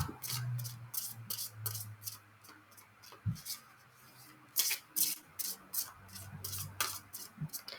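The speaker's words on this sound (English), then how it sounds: "I'm shuffling them up." A new Visionary Woman tarot deck is shuffled by hand, giving a quick series of crisp riffling and rubbing bursts of card stock, close and fairly quiet, with short pauses between.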